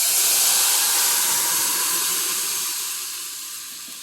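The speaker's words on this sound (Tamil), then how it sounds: "பருப்பை எடுத்து ஊற்றி தாளிச்சிடலாம்" Dal poured into a hot tempering with curry leaves and asafoetida gives a loud, broad steamy hiss that slowly fades over a few seconds, with no talking.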